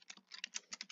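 Fingers tap a computer keyboard in a quick, uneven burst of about a dozen light clicks, faint and close, with no voice.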